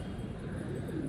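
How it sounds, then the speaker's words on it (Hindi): Pigeons coo on a high rooftop in Karachi, a soft, steady murmur of low calls blending with the constant hum of the city, faint and continuous without any voices. "पीछे कबूतर है उधर"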